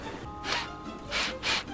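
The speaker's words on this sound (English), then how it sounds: "such as sniffing" Three quick nasal sniffs, close and fairly loud: a single one first, then a rapid pair, over quiet background.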